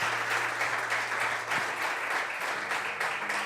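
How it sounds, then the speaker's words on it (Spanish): A church congregation at a Spanish-language Sunday service applauds in a steady, sustained burst of clapping, moderately loud, over a low constant hum. "Dese un aplauso a usted mismo."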